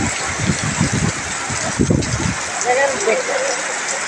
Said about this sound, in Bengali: ভারী বৃষ্টি হচ্ছে